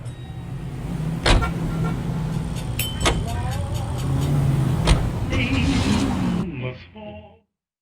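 A car driving in the video game L.A. Noire, a steady engine rumble with a few clicks and thumps, ending in a fade to quiet.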